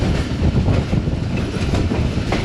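The Rehman Baba Express rolls through Bakrala railway station with loud, continuous rumbling and rhythmic wheel clatter, heard up close from inside the moving train with no talk.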